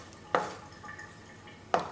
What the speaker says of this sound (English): Now we're going to mix everything in with the salad